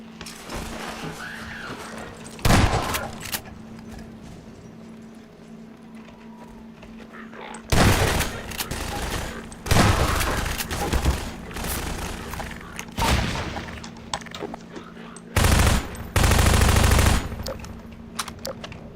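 Bombing of a town in Half-Life 2 comes through as repeated heavy blasts and rattling bursts at intervals over a steady low game rumble, with a voice talking between them.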